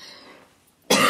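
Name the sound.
cough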